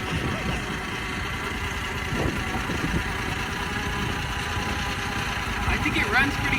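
An AGT LRT23 mini skid steer engine idles steadily at low throttle outdoors, a continuous close mechanical drone with a brief rise near the end.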